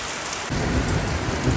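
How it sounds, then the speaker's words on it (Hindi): Heavy mountain rain roars loudly, blown by wind, while a deep low rumble of thunder swells in partway through. "गड़गड़ाहट की आवाज़।"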